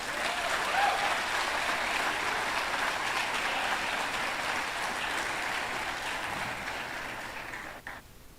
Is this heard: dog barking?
no